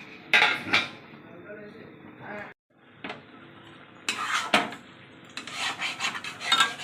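A metal lid clanks onto a cooking pot of shapla (water lily stem) and shrimp curry, several loud bright clatters and scrapes with a pause between, while a voice talks in the background.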